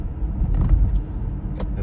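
A car drives along the M7 toll highway in Sydney at about 100 km/h, making a steady low road roar with a few brief passing swishes.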